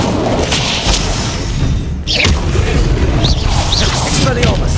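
An Incendio fire spell cast in a Hogwarts wizarding video game bursts out as a loud, heavy whooshing boom over dense, continuous game noise, followed by sweeping magical swishes.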